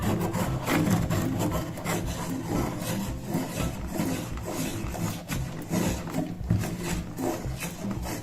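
A wooden pencil grinds inside a chicken-shaped pencil sharpener at home, giving a continuous close rasping, scraping rub with small cracks and crunches, steady for several seconds without talking.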